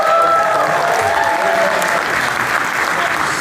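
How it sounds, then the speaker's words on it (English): Crowd applauding an opening band at an outdoor winter concert in downtown Kitchener, Ontario, a loud continuous roar of clapping with faint cheers and tonal remnants of music underneath. "We just give a huge, huge, massive round of applause for that opening band"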